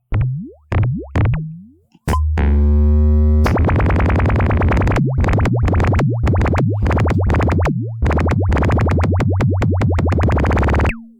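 Music Thing Modular Workshop System patch with two slope generators modulating each other through bandpass-filtered voices, producing loud, close synthetic plops, bouncing sweeps and a dense rapid rhythmic train of pitched blips, no speech.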